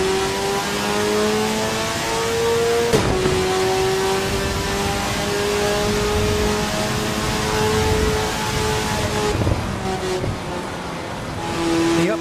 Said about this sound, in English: The upshifts on this are brutal.